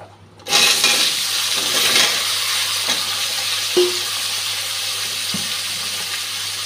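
Shing fish coated with salt and turmeric frying in hot oil: a steady, loud, crackling hiss begins abruptly and keeps going, with a few faint clinks and pops. No voices.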